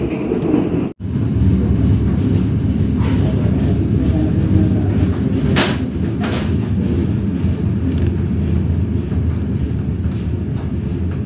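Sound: KA Mataram train departing Kroya station

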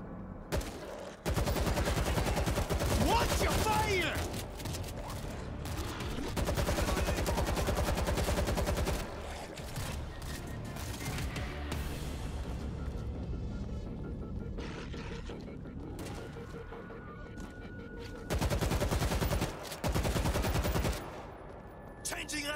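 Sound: gunfire in video game World War Z

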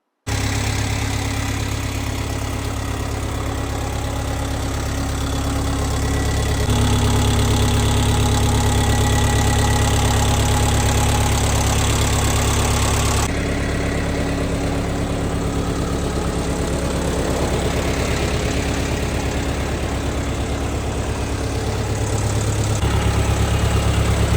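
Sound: Lovol 354 four-cylinder tractor engine idling

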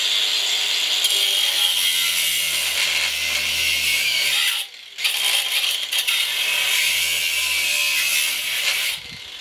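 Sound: angle grinder cutting an electric motor casing

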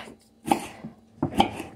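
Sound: chopping vegetables for calabacitas

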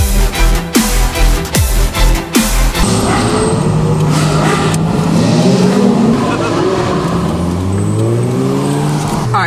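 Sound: Ferrari sports car engine accelerating

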